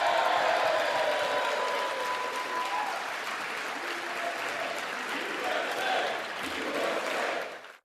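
Lawmakers in the US House of Representatives cheer and applaud after a narrow 218–214 vote passes Trump's bill, a dense, sustained roar of clapping and shouting crowd noise in a large chamber that holds steady before cutting off.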